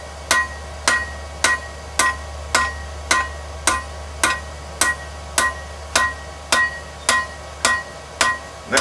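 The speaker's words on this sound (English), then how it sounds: "Slowly turning it, hitting half on, half off on that edge, and drawing back to you ever so slightly" A hammer strikes steel tongs on the edge of an anvil to draw out a taper, ringing metallic blows in a steady even rhythm, about two per second, close and loud over a low hum.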